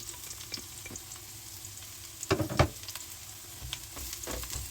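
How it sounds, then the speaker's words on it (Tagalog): Garlic fries in a pan with a steady, fairly quiet sizzle, broken by a brief louder burst of crackling and a few soft stirring knocks. "At ilagay na natin yung ating bawang."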